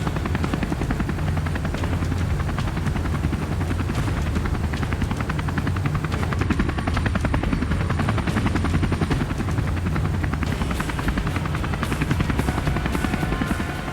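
A rescue helicopter flying on a bumpy backcountry flight: a steady, loud rotor thump and turbine whine carry on without a break for the whole stretch, with no talking.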